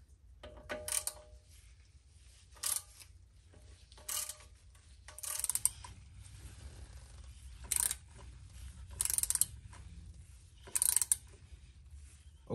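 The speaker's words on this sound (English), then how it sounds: "you want to go ahead and remove the 4 screws for the brake pads" Removing T40 brake pad screws on a BMW 135i N55 with Brembo rotors, several short bursts of ratcheting tool clicks separated by quiet pauses, close and fairly loud.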